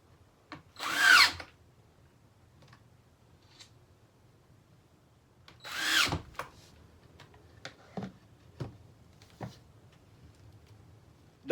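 Two short bursts of a power drill backing screws out of a futon hinge and latch, each about half a second, followed by faint scattered clicks and taps in a quiet room.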